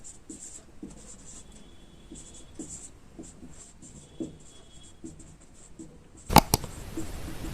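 Marker or chalk writing equations on a classroom board, with short scratchy strokes in an irregular rhythm, closely miked, followed by a couple of sharp knocks near the end.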